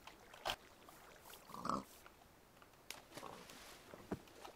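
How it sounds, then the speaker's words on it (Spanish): Pigs in a Minecraft-style video game give several short, scattered grunts at moderate volume over quiet game ambience. "Más cerdetes."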